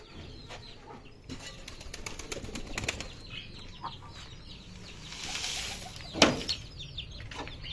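Pigeons flutter and flap their wings in a dirty village coop, with scattered soft wing beats and movement sounds throughout and a sharper burst of flapping near the end. No clear cooing stands out.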